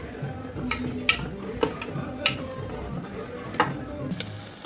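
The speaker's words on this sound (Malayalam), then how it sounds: "സവാള പച്ചമുളക് വേപ്പില എല്ലാ സാധനങ്ങളും അങ്ങോട്ട് ഇട്ട് കൊടുക്കും ഒന്ന് വഴന്ന് വരട്ടെ" Sliced onions, green chillies and curry leaves sauté in a pan for a Christmas beef stew, a low sizzle broken by several sharp spatula clicks against the metal at an uneven pace, close up with no talking.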